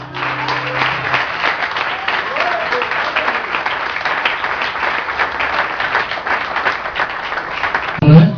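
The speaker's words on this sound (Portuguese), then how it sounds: "Eu queria que você aplaudisse esse Deus." Congregation at a church worship service applauding, dense steady clapping throughout at fairly close range, with a sustained musical tone and occasional voices underneath.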